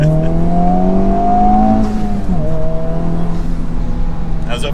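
A 2024 Honda Civic Type R with a manual gearbox pulls hard on a road test drive, its engine note climbing steadily, dipping briefly at a gear change, then pulling again, loud and close from inside the cabin.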